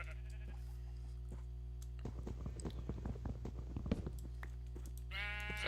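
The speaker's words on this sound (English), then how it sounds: "Sorry, sheep." Sheep in Minecraft bleat several times in a short game scene, with crunchy chewing-like sounds and a steady background hum, no speech.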